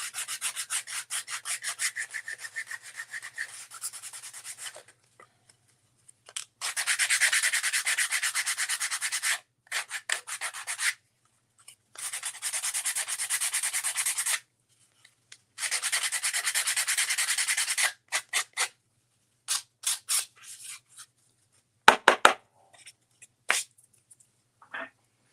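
Sandpaper rubbing around the edge of a small wooden piece in a wine cork craft project, several bursts of close, steady scratchy strokes separated by pauses, ending with a few brief taps and scuffs.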